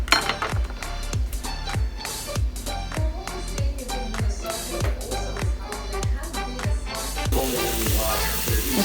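Garlic, onion and ground pork frying in vegetable oil in a pan, a loud steady sizzle with rhythmic scraping and stirring strokes of a utensil against the pan throughout.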